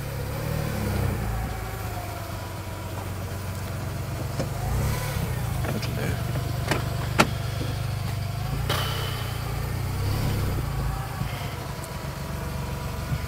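A Smart Fortwo 450 with a modified, non-genuine exhaust drives up a driveway under load, its small engine droning steadily and close by, with a few clunks and knocks along the way and almost no talk.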